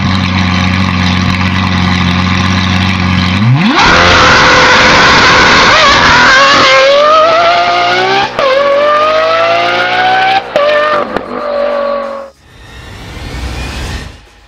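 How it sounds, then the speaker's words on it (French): Lamborghini Aventador SVJ with a naturally aspirated V12 and Gintani exhaust, loud and close, idling steadily before a sharp rev into a long howling run of rising and falling pitch, then a brief drop and a final high scream. "Avec son V12 atmosphérique, l'Aventador SVJ atteint un son de 120 décibels."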